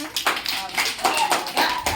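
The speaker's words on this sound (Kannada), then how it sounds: "ಎಲ್ಲರಿಗೂ ಒಂದು ಜೋರಾದ ಚಪ್ಪಾಳೆ ಹಾಕಿ" Children clap together in a classroom activity, bursts of loud, sharp claps coming in several waves over two seconds, with an adult voice talking over them.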